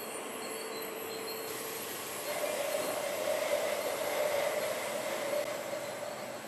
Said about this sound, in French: il y a un tunnel de séchage et stérilisation à 150 degrés